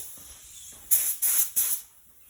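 A spray gun lays light dust coats of high-fill primer onto a Harley-Davidson part, three short close hissing bursts in quick succession over quiet shop background.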